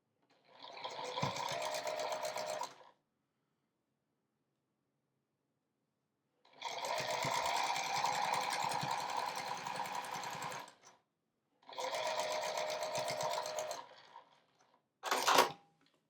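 A sewing machine stitches quilt rows together in three steady whirring runs of a few seconds each, then a short final burst, with quiet pauses between them and no talking.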